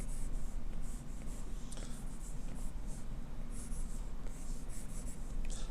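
A stylus drawing on a tablet screen in Procreate makes a steady, soft scratchy rubbing with small repeated strokes over a constant low background hum, recorded close with no talking.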